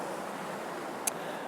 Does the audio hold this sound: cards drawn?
no